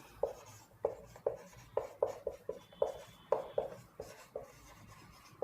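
A pen or marker writes on a board or paper in quick, repeated short scratchy strokes, a steady irregular rhythm of close, quiet taps and scrapes with no talking.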